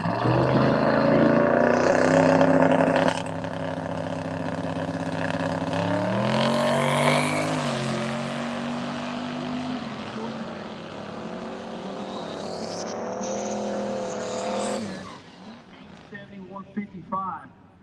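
A Michael P. Chevy turbo drag race car from Cypress, Texas roars loud and close down the strip on a pass at the Summit Racing Midwest Drags, engine note climbing and shifting, then cutting off near the end as an announcer talks over it.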